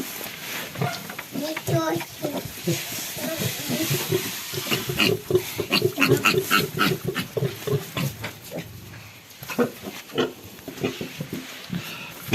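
Seventeen-day-old piglets squeal and grunt continuously up close, a busy overlapping chorus of short high calls and low snorts, with people talking over them.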